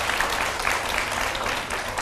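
Steady applause from a seated audience at a lighthearted Vietnamese matchmaking show, dense even clapping filling the whole moment at close range with no voices over it.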